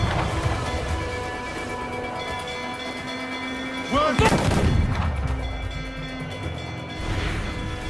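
Warship cannons fire during a naval battle in Assassin's Creed IV, a deep boom rising out of constant rain-like ocean and wind noise near the middle, with a dull rumbling tail afterward.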